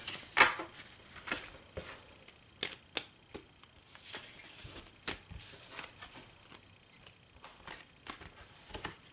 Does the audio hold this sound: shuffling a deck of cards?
yes